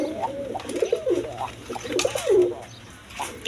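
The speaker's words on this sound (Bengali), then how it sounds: "এখানে এক পেয়ার রাজগোল্লা কবুতর আছে দেখেন" A pair of Rajgolla pigeons coo close by in a series of soft, rolling, wavering calls, with a short pause before another burst near the end.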